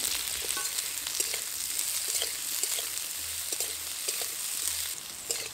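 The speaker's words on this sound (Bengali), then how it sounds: "সেদ্ধ করে রাখা ডুমুরটা এবার এই তেলের মধ্যে দিয়ে ভেজে নেব।" Boiled figs fry in hot oil with a steady close sizzle and crackle, with soft stirring taps scattered throughout.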